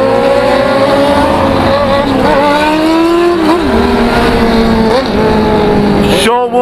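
A loud motorcycle engine, 2018 model with 1,495 km, revs and shifts pitch repeatedly, rising and falling in close, continuous bursts before cutting off near the end.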